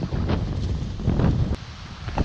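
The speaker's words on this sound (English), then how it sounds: "We are arriving at the spot, it's super windy." Strong wind buffets the microphone outdoors on a street in Amsterdam, a steady, loud roaring rush with gusty swells throughout and no voices.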